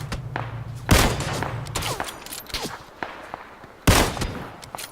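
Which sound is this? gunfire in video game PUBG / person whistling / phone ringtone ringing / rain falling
gunfire in video game PUBG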